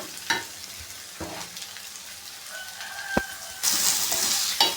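Leftover bonda pieces frying in a pan give a steady hiss with a few stirring knocks, and the sizzle swells louder near the end; no one speaks.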